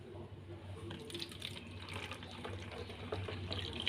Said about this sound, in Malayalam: എന്നിട്ട് നമുക്ക് ഈ കുപ്പിയിലേക്ക് ഒഴിച്ചു കൊടുക്കാം കേട്ടോ.